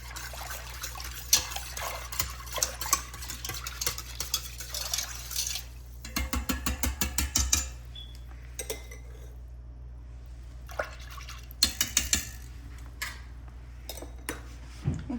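Milk and yogurt starter stirred together inside an Instant Pot while making curd at home, giving light clinks and scraping of a utensil against the pot in short bursts, with quiet pauses between them.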